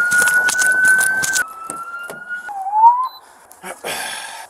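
A police car siren wails steadily amid clattering bursts, then shifts to a lower warbling tone before cutting off, with short noisy sounds around it.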